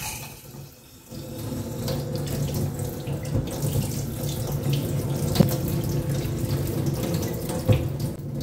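Water runs steadily from a kitchen faucet into a sink while a fish is rinsed, a continuous close splashing stream that starts after a brief quieter moment and carries on with occasional louder splashes.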